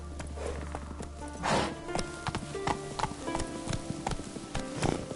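Hooves of Roach, a horse in The Witcher 3, clip-clopping in a steady gallop rhythm close by, layered with game ambience and occasional louder thumps.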